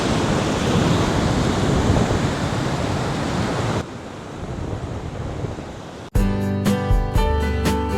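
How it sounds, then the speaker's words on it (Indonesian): Indian Ocean surf breaks on the wide white-sand shore of Sepanjang beach in Gunung Kidul, a steady loud roar of waves with wind, easing slightly before a louder sound cuts in at the end. "Hamparan pasir putih yang luas berpadu dengan deburan ombak Samudra Hindia"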